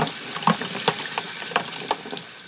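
Water is dumped out and a bicycle chain is rinsed after scrubbing off packing grease: steady splashing and running water with small clinks, close and continuous with no talk.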